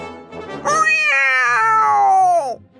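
One long, drawn-out meow from a city cat rises sharply, holds for about two seconds with a slight downward glide, then cuts off, loud and close with no talking over it.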